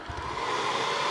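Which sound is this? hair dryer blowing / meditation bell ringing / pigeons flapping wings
hair dryer blowing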